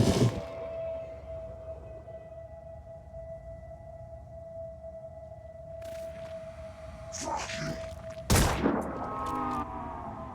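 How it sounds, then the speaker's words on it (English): Sharp gunfire bursts from a sci-fi video game battle, with a sustained tonal hum beneath and one loud blast near the end followed by clattering echoes. "Gonna get a lot of return fire."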